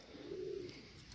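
Teddy pigeons, a Pakistani fancy breed, give a single soft, low coo up close against a quiet background.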